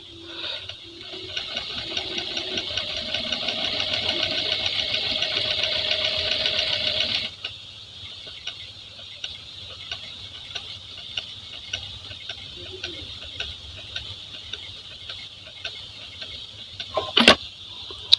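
A Jack A4f sewing machine runs a steady rapid stitching burst for about seven seconds, sewing double back-and-forth stitches, then stops, leaving quiet handling clicks and a sharp knock near the end.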